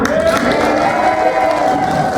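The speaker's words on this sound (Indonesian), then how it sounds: "Grup A 25, berikan tepuk tangan." An audience claps for Group A at the grand final of a nurses' and allied professionals' ECG championship, a steady crowd applause lasting throughout, with a tonal hum and some voices beneath.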